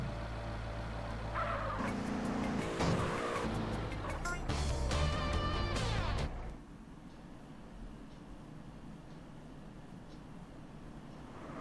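Police car being forced off the road in GTA San Andreas: loud revving engines with tire squeal and skidding for about six seconds, then dropping to a quieter steady engine hum.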